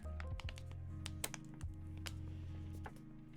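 A keycap is fitted onto a Rama Works Zenith mechanical keyboard, giving a few close, sharp plastic clicks and taps with quiet pauses between them. No one speaks.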